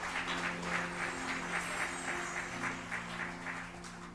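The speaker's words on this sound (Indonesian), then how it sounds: "Berikan tepuk tangan lebih keras lagi." Rhythmic clapping from a church congregation during a sermon keeps a steady beat over sustained music with held tones, fairly loud and continuous.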